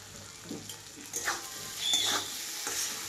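Drumstick flowers fry in a pan with salt as they are stirred, a soft sizzle broken by several brief scraping strokes, close but fairly quiet.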